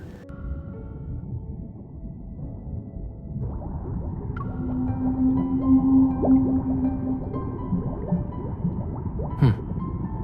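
Whale song from the game Love and Deepspace, long, low, drawn-out tonal calls rising and falling over a murky underwater wash, distant and moderately loud, with no talk.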